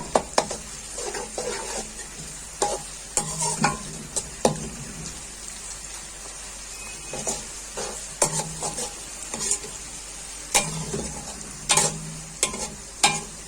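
Ginger and garlic sizzle steadily in a hot pan, with repeated scraping stirs and clinks of a spoon scattered through a continuous frying hiss, close and moderately loud, no voices.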